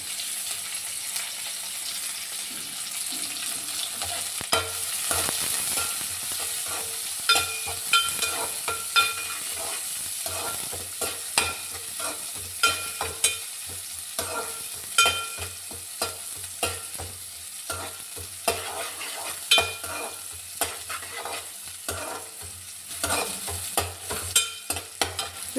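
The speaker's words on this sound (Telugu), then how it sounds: "ఇదో ఇప్పుడు ఉల్లిపాయలు వేస్తున్నాను" Onions fry in a pan for cauliflower curry with a continuous close sizzle. Irregular scraping and clacking from stirring cuts through it again and again, and no voices are heard throughout.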